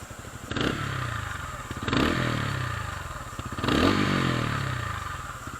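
A 2025 TVS Ronin motorcycle engine idles with a loud, rough exhaust rumble, swelling in three revs of the throttle.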